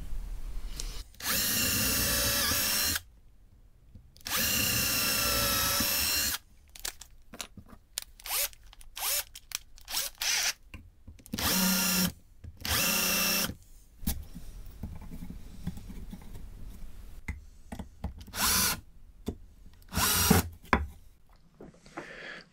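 Power drill boring into pallet wood over a sacrificial board in a workshop, several loud close bursts of whining drilling separated by pauses and small handling clatter.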